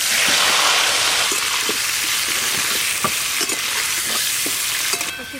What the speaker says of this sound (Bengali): তেল তো খুব ভালো করে গরম হয়ে গেল। এবার এই আলুগুলো লাল লাল করে ভেজে নেব।